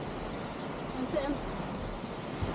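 Rushing water at Ng Tung Chai Middle Falls makes a steady, broad hiss of flowing torrent, moderately distant, with faint brief vocal sounds over it.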